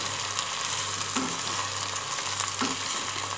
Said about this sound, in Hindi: गोश्त डाल के इसको अच्छी तरह भूनेंगे।